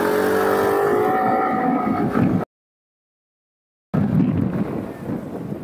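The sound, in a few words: SYM Husky ADV 150 scooter accelerating, exhaust sound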